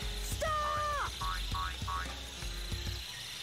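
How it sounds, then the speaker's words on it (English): A cartoonish game-sound frog croak from Sonic Adventure, with a sliding, boing-like tone followed by several shorter repeated croaks over a steady low background hum, fairly loud and with no talking. "There's Froggy, Big's pet frog"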